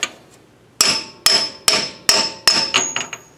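Six sharp metallic hammer blows drive a large socket against an axle seal on a 1987 Jeep XJ, the first isolated, then a steady rhythm of evenly spaced, close, ringing taps with no talk.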